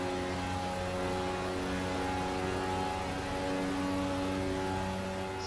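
Turbo race car engine heard from onboard at Bathurst, a loud, steady droning roar with a constant tone that holds at high revs for the whole stretch.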